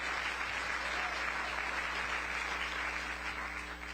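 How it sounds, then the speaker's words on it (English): A crowd applauding steadily for several seconds, dense even clapping that tails off slightly at the end. "Yeah, you can clap, you can clap."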